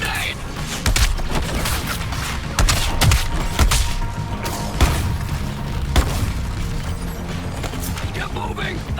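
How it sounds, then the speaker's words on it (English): Grenade launch and blast in the Suicide Squad: Kill the Justice League video game, heavy booming thuds and crashing bursts repeating over dense battle noise and music, with game voices talking throughout. "Launch grenade."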